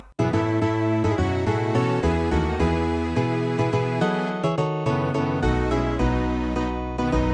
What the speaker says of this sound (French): mais une vraie musique malgache, ça sonne comme ça.